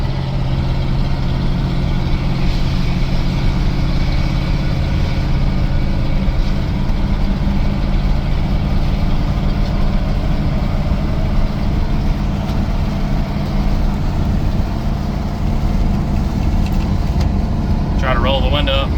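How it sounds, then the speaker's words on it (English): A 1978 Chevrolet C10 pickup with a 305 V8 and its exhaust cut off right under the cab drones loud and steady from inside the cab while driving, a continuous low rumble throughout. "It's a little loud, I apologize for that, but I guess that's what 305 with the exhaust sawed off right up under the cab does."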